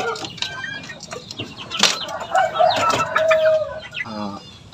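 Shamo fighter-breed chickens clucking and crowing at close range, with repeated clucks, a drawn-out crow in the middle and a brief flutter of wings near the end.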